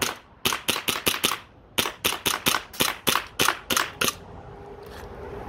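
A WE Tech M&P9 gas airsoft pistol fires a full magazine as rapid sharp cracks, one quick burst and then a second longer string with a short pause between, close and loud, then quiet.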